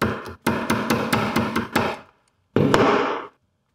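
Hammer strikes on a nail in wood while building a small scale pulley, a quick run of six sharp close knocks followed by a pause and one more blow, with no talking.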